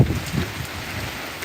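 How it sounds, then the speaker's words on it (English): Wind-driven rain during Hurricane Milton in Orlando, a steady hiss of rain with gusty rumble, a brief louder burst at the start, no talking. "I want y'all to experience what it's like when the wind and rain is coming"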